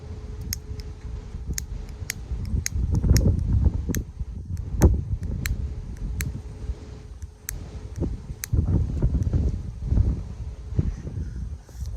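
Strong wind buffets a microphone outdoors on a city street near Times Square, a steady low roar with gusts surging around the middle and end, mixed with sharp repeated clicks as a lighter is tried.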